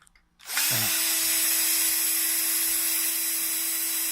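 A power screwdriver spins a long screw out of a coffee machine's brewing unit, starting abruptly after a quiet moment and then holding a loud, steady motor whine throughout.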